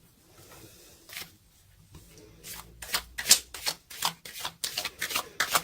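Tarot cards being shuffled by hand, a quiet start building into a rapid run of crisp riffling bursts close to the microphone, with no talking.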